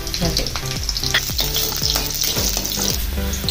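Peeled garlic and chopped green chillies frying in hot oil, a loud, close, steady sizzle with crackles and regular scraping stirs of a spatula against the pan.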